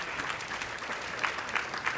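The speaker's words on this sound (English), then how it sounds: "Yeah, he deserves a round of applause." Audience applause for a top-performing real estate agent at a team event, steady dense clapping with no talk over it.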